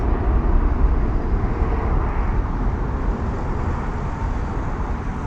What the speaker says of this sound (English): we've got a Boeing 777 headed to Mumbai in India. British Airways aircraft